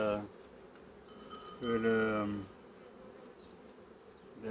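Honeybees at a hive opened for post-winter expansion work buzz in a faint, steady hum, with someone speaking quietly over them partway through.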